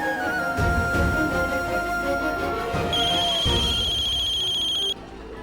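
A mobile phone ringtone chimes as a steady repeating tone near the end, over a background of music and voices in a Hindi TV drama scene.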